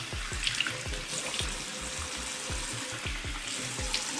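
Warm water from a tap runs steadily while hands splash and rinse a turmeric clay mask off a face, with repeated close wet slaps and splashes over the running stream.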